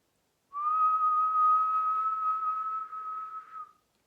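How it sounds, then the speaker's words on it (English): One person outdoors whistles a single long, steady note for about three seconds, clear and close, fading out at the end. "now I enjoy just whistling"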